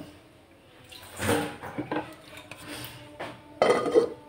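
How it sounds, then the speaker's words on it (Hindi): Metal lid set onto a cooking pot of potatoes in water for egg curry, a few clanks and scrapes of metal on metal, fairly quiet and close. "और ढक्कन को बंद कर दूंगी"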